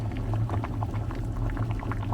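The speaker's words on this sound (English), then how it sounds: "for the second time, the water is boiling" Water bubbling at a rolling boil in a pot on the stove for river snail noodles, a steady dense burble with no pauses and no voices.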